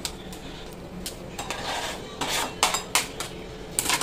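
Onions are cut with a knife for pakoras to go in kadhi pakoda, heard as repeated close scraping and rasping strokes with sharper chops that grow more frequent toward the end.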